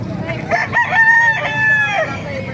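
Roosters crowing at a chicken market in Calumpit, Bulacan, one loud close cock-a-doodle-doo call stretching over two seconds, with clucking and market noise underneath.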